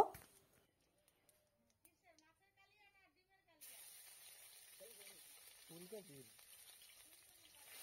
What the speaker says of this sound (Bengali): তেলের ওপরে জিরে ফোড়ন দিয়ে দিচ্ছি